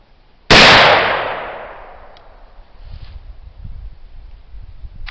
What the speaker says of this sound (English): Alright, second shot out of our pine charcoal homemade black powder.